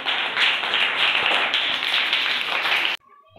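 Grade 2 children in a classroom clap for themselves, a dense burst of many small hands at close range that runs steady for about three seconds and then stops abruptly, leaving near silence.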